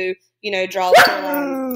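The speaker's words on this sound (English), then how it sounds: "Sorry, y'all, that's my dog." A dog gives a single loud close bark while a person keeps talking.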